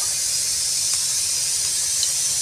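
Hot oil with panch phoron sizzling in a pan as strained, boiled drumstick leaves go in, a steady loud hiss holding throughout without any voices.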